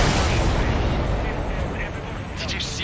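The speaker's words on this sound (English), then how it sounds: "Did you see that explosion?" A supply ship blows up in Ace Combat 7, a loud, dense explosive roar that fills the whole moment and slowly tapers off.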